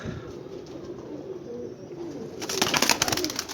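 Pigeons, part of a flock of about sixty kept for sale, coo in low repeated murmurs close by, swelling into a louder, denser chorus of calls near the end.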